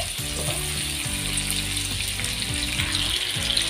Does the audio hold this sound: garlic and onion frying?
yes